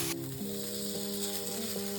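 Potato pancake batter frying in plenty of oil in a pan, a steady close sizzle and crackle throughout with no talking.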